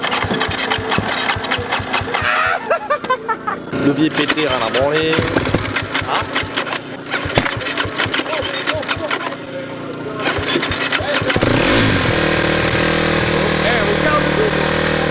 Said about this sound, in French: Parce que c'est une moto qui démarre très mal.